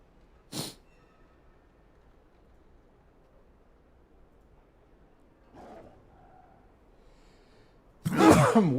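A single sharp sneeze bursts out near the start, followed by a softer sniff-like breath later and a louder breathy burst at the end, otherwise quiet.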